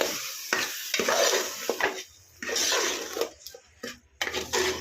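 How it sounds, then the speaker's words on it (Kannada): Ground masala paste for sambar fries and is stirred in a pan. Bursts of sizzling and scraping come and go in uneven strokes, with short quiet gaps between them, and nobody speaks. "ರುಬ್ಬಿಟ್ಕೊಂಡಿದ್ದ ಮಸಾಲೆನ ಹಾಕ್ಕೊಂಡ್ಬಿಟ್ಟು ಇದನ್ನು ಅಷ್ಟೇ ನೀಟಾಗಿ ಈ ಥರ ಫ್ರೈ ಮಾಡೋಣ"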